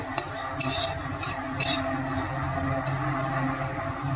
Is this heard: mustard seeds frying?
yes